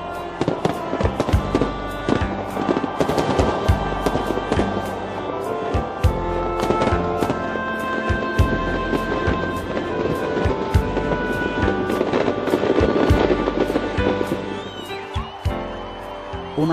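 Rio de Janeiro's New Year fireworks display pops and crackles in a dense, continuous barrage of bursts at varying distances, with a steady wash of crowd noise and wind underneath.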